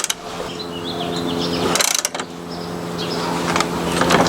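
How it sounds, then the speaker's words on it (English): A ratchet tightens strut bar bolts under the hood of a BMW E36, giving quick clicking bursts over a low steady background hum, close and moderately loud. "I'm just going to tighten it till it's tight"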